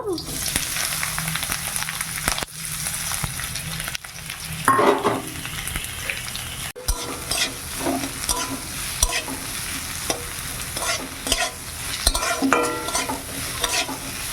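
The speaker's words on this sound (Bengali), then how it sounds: "পেঁয়াজটা ভেজে নেব" Sliced onion fries in oil in a pan on a village kitchen gas stove, a steady loud sizzle broken by scraping stirs and clatters of the spatula throughout.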